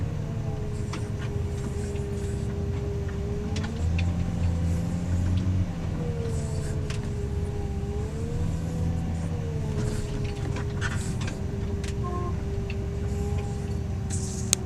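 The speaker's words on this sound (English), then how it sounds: "The other truck's pulling in right now" A truck engine rumbles steadily nearby as it pulls in, its pitch rising and falling as it moves and slows, with faint clicks and knocks on top.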